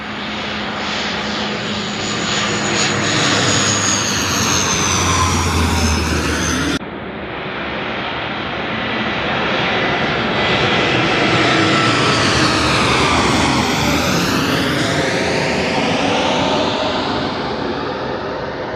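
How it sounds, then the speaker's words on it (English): Low-flying fixed-wing airplanes pass directly over a car park, a loud sustained engine roar that builds, dips briefly, then swells again with sweeping pitch as they pass overhead; no talking. "planes are currently doing the path right over the Blue Emu car park"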